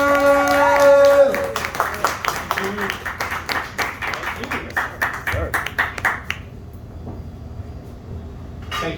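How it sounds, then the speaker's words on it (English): Crowd of people clapping at a community festival stage show, irregular bursts of hand claps close by with loud music and chatter at first, thinning to scattered claps before fading to near quiet. "Y'all start clapping right now."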